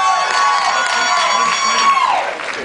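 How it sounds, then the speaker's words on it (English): A radio concert audience cheers and claps loudly and steadily, with shouts and whoops rising over the crowd noise, while a sustained tone runs through the sound before falling away near the end. "They were clapping"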